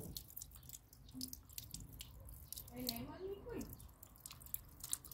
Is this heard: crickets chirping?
no